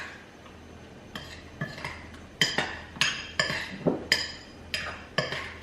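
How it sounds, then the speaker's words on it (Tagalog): Utensils mixing a buko pandan fruit salad in a bowl, a run of sharp metallic clinks and scrapes against the dish, repeating in irregular bursts about twice a second, close and clear with no talking. "Haluin natin."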